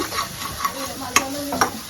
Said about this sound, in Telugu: చూడండి ఎంత మంచిగా వేయిస్తున్నాడు